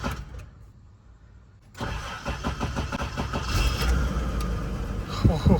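Toyota LandCruiser 80 series engine cranking after a fuel tank replacement, a quiet pause, then rhythmic starter churning that catches into a loud, slightly rough idle, close by.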